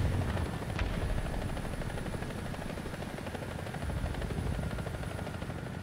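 A helicopter in a video game thrums steadily throughout, a loud, close, continuous rotor chop and engine drone with no speech.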